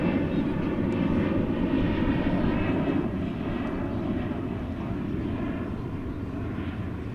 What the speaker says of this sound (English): this and those other wide bodies are taking off from the east side of the airport